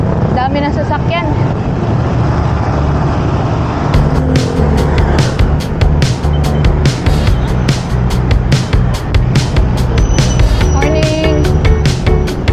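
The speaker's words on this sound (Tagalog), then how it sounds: "Dami ng sasakyan." Early-morning road traffic on a Laguna loop route, cars passing one after another with a constant loud roar and rushing wind, near and continuous, and a voice speaks over it at times.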